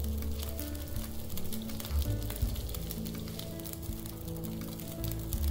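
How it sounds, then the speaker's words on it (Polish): A bass fish fries over a fire in the survival game The Long Dark, giving a steady, crackling sizzle with low rumbling underneath, continuous and fairly close. "Gotujemy sobie tego basika."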